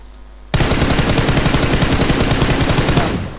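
Automatic gunfire in Battlegrounds Mobile India starts abruptly after a short quiet moment, then runs as a loud, rapid, unbroken burst for nearly three seconds before fading.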